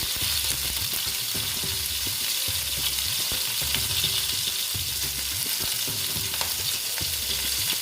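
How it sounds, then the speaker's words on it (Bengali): Pointed gourd (potol) pieces fry in oil in a pan for a vegetarian potol dish, giving a steady, close hiss of sizzling with repeated scraping thumps of stirring and no talk. "পটলগুলো এবার ভেজে নিচ্ছি"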